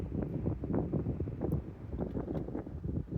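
Strong wind gusts batter the microphone on a cliff, a steady low roaring buffet that rises and falls throughout, close and loud with no other sounds standing out.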